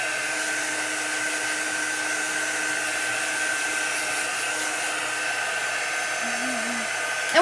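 A heat tool blows steadily and loudly for the whole stretch, drying and thinning chalk paste, with a brief hum and a small rise at the very end.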